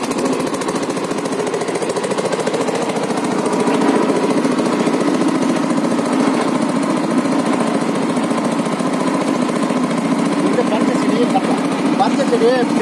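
A groundnut harvesting machine engine runs loud and continuous, with a rough, rapid knocking throb that holds steady throughout near Melur, Madurai, while people talk beneath it.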